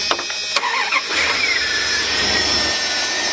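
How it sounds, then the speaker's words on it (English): A 2000 Dodge Ram Van B1500 with an idle control fault starts up close by: a few clicks and a brief crank, then the engine catches into a steady mid-pitched idle with a faint hissing air leak. "we got the cover off, and let's start this up now."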